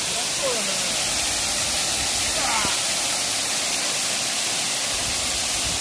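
A waterfall roars as a loud, dense, unbroken rush of water close by, with faint voices of young men barely rising above it.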